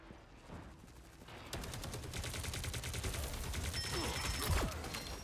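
Rapid automatic gunfire from the Punisher in Marvel Rivals erupts after a quiet start and keeps firing steadily for several seconds, with shrill mechanical whines and explosive thumps mixed into the battle.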